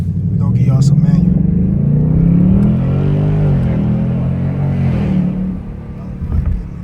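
A 2025 Ford Mustang GT V8 at night drones loudly through a manual downshift, its pitch rising and falling in a sustained, close roar that tails off near the end, with voices talking over it.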